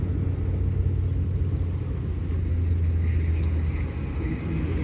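A car engine drones with a steady low rumble as it is shifted into third gear, the hum staying loud and continuous without a clear break.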